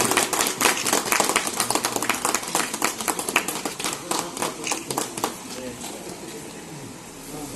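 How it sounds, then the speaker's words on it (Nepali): An audience claps in honour of the chief guest at a community programme, a dense burst of many hands that is loud at first and then thins and fades over several seconds. "कृपया ताली बजाएर उहाँलाई सम्मान गरिदिनु हुनु पनि अनुरोध गर्दछु।"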